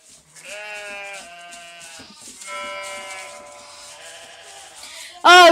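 Several sheep bleat one after another in wavering, drawn-out calls, fairly close, ending with a sudden louder bleat.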